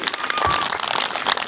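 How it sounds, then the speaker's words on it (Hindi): Applause from an audience at a religious gathering, a dense, steady patter of many hands clapping together, fairly loud and continuous through the short stretch. "चलिए एक बार ताली बजाएं सारे लिए।"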